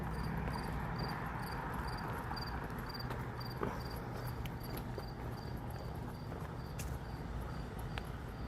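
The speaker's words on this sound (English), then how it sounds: "You can hear the crickets." Crickets chirp in a steady, pulsing rhythm on a quiet Toronto street at night between Danforth Village and Little India, heard faintly over a constant low city hum with a few scattered clicks.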